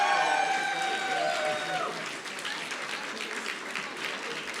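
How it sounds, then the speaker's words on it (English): Applause for graduates at a performing arts college graduation recognition ceremony, a broad wash of many hands clapping with a few cheers, loud at first and easing slightly, while a voice speaks over the opening moments. "can we have one round of applause for all of our graduates?"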